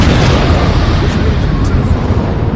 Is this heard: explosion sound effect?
yes